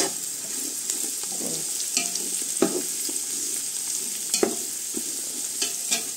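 Garlic and onion sauté in hot oil in a pan for pancit, a steady close sizzle and crackle with a spoon or spatula clacking and scraping in scattered stirs, no voices.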